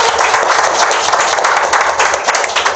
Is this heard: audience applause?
yes